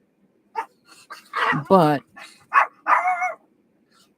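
A few close dog barks and yips come in short bursts, overlapping with a person speaking.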